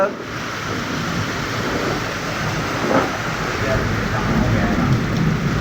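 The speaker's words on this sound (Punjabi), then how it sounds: "ਇੱਧਰ ਨੂੰ ਵਾਛੜ ਫੇਰ ਹੋ ਗਈ" Heavy rain shower pouring steadily under a dense, low cloud, a continuous broadband hiss of drops at moderate loudness with a faint rumble beneath, voices murmuring faintly in the background.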